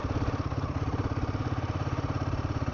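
A Royal Enfield Himalayan 450 motorcycle engine runs with a steady, rapid thrumming pulse, close and even throughout, with no talking.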